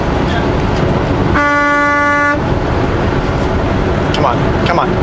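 A loud multi-tone vehicle horn honks once for about a second on the road during a drive over Rogers Pass, rising over steady engine and road rumble inside the car.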